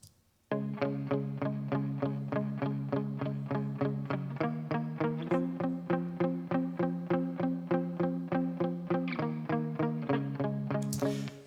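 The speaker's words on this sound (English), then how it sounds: "And then the chorus, just for some drive, I just did this palm guitar, I called it" Palm-muted electric guitar chugging through an amp setting with no reverb, a chorus part in a pro-sounding cover mix: steady, tight, evenly spaced muted strums repeating loudly and alone, with a brief cymbal-like wash at the end.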